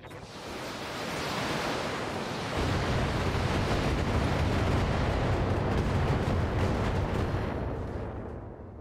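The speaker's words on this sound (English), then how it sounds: "I guess we'll throw some missiles his way." Missiles launch and strike their target in a heavy, sustained roar. The broad rumble swells after a couple of seconds, stays loud and dense, then slowly fades out.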